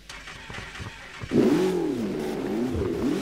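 A car engine in the racing game Burnout Paradise Remastered revs up hard after a few short clicks, then holds a loud, wavering roar with rising and falling pitch sweeps.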